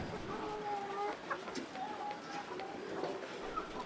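Chickens kept for breeding, separated by size, clucking and calling in a steady chorus of short tonal cries over continuous farmyard background, with no talk.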